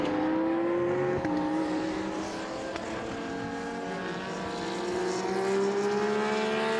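A Lamborghini Cup race car lapping the Most circuit during a race, its engine note rising and shifting steadily, loud and sustained with a gear change early on.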